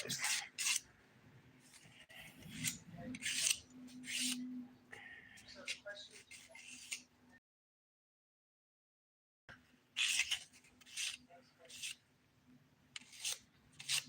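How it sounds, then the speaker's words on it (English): The 180 grit side of a nail file rasps in quick repeated strokes across dip powder nails, with a short silent gap midway and low talk underneath. "using the 180 grit side of my file."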